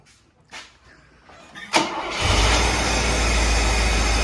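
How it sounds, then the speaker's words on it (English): A cold engine of a 1980 Mercedes 450SEL cranks with a few short bursts, then catches and settles into a loud, steady rumbling idle close by. "let's crank up. Let's see. Cold engine, first start."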